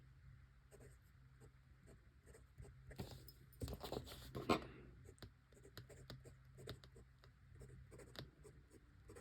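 Faint, close scratching of an extra fine fountain pen nib moving across dot grid notebook paper, in short quiet strokes with light rustling.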